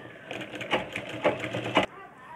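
A sewing machine runs in short, quick bursts of rapid needle clatter while stitching a blouse, fairly close and steady for under two seconds, then stops.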